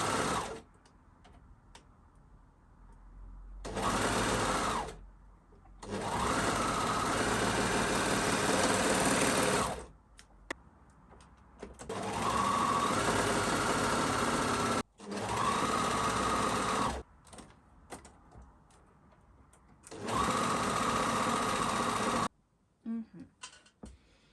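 A sewing machine stitches the side elements of lace panties together in about six loud, steady bursts of rapid whirring, separated by short quiet pauses as the fabric is repositioned.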